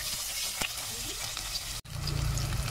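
Garlic and onion sautéing in a pan, a loud, steady hissing sizzle that briefly cuts out and returns with a lower frying tone.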